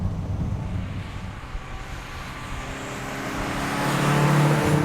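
A BMW 2002 Turbo driven hard, its engine droning steadily with a faint turbo whistle riding in the background. Wind rush mixes in, and the engine grows louder toward the end.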